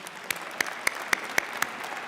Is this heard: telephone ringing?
no